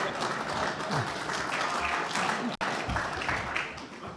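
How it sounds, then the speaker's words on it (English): An audience at the National Press Club applauds steadily for several seconds. The dense clapping breaks off once briefly and then resumes at the same level. "Is applause from the press allowed?"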